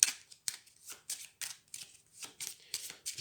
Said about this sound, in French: et je remélange